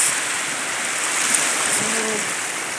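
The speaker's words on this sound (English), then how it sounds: "The ocean, this ocean, yes, this ocean, I guess. The Indian Ocean" Ocean waves on the Indian Ocean at Nyali Beach make a steady, broad wash of surf noise throughout, with a faint voice-like tone briefly surfacing near the end.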